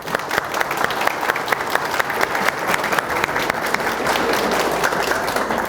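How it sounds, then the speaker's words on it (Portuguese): Lively applause from an audience at a motivational talk, a dense continuous wash of clapping with sharp individual claps standing out, steady and fairly loud throughout. "Uma salva de palmas para vocês."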